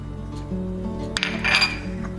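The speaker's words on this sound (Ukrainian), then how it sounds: "В каструльку вливаю оливкову олію, можна брати також і соняшникову. Кидаю часник подрібнений." Chopped garlic drops into olive oil in a saucepan, giving a short clink of the pan and then a soft sizzle and spatter against the steady hum of a kitchen. No one speaks.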